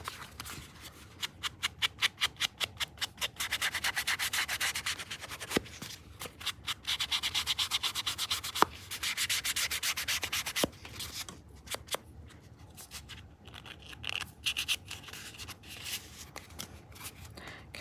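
Sandpaper in a hand-held holder rubbed in quick rhythmic back-and-forth strokes, scratchy rasping bursts in runs with short pauses, close and fairly quiet.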